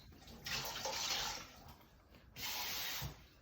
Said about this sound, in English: I drain, rinse again.